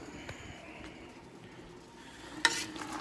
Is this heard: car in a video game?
no